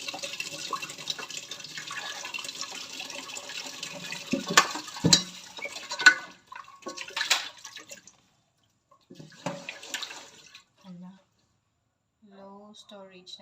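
Water runs and splashes as rice is washed in a rice cooker pot in a home kitchen, with bursts of rinsing and sloshing, a few drips near the end, and pauses between.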